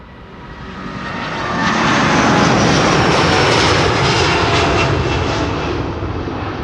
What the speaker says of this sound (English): Delta Airlines is rolling. It's an A330neo going to Boston